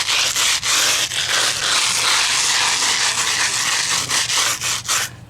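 Sponge float rubbing a masonry patch flat, a loud close scrubbing rasp in quick repeated back-and-forth strokes, continuous for about five seconds with no talk.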